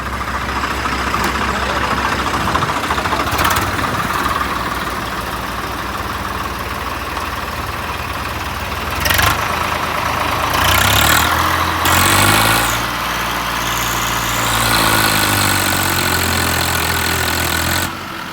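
A tractor engine chugs loudly nearby, revving hard in bursts as it strains to pull free of rain-soaked mud, then settles back to a labored rumble.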